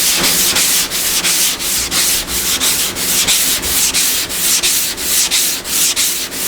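Thick primer being block sanded by hand with a half-flexible Durablock on an MGA body panel, steady rhythmic back-and-forth rasping strokes, about two per second, close and loud.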